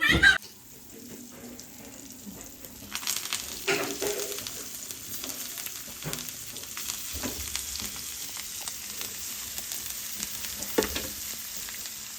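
Fish frying in a home kitchen, a steady sizzle with stirring clatter and a running tap or sink water, quiet at first and then louder and continuous; faint voices occasionally under the noise.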